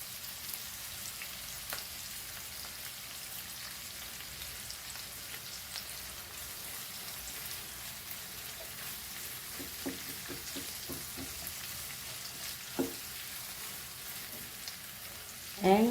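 Curry leaves fry in oil for a Goan jackfruit foogath, a soft continuous sizzle with scattered small pops and a few stirring clinks near the end, fairly quiet and without talk.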